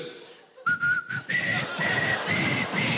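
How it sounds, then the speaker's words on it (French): A person whistles a clear melody, several sustained notes in a row, close and loud, with faint breathy noise underneath. "Ah, non, je siffle."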